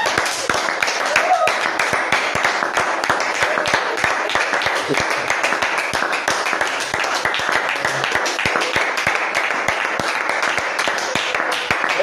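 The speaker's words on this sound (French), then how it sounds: "Applaudissons pour le Seigneur." A church congregation applauds for the Lord, a dense, continuous crowd clapping with a steady rhythmic beat running throughout, mixed with voices.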